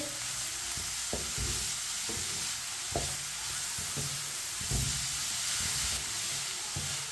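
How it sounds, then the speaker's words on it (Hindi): Spoon stirs Chinese kebab mixture in a pan over medium heat, giving a steady sizzle with regular scraping strokes about once a second, close and continuous, with no talk. "इसे इसी तरह चम्मच चलाते हुए पकाएं 3 मिनट के लिए।"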